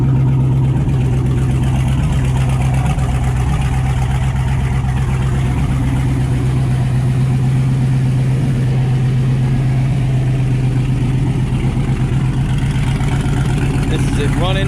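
A car engine that had a stuck fuel injector cleaned runs at a steady, loud idle close by, with an even rumble and no break for the whole stretch.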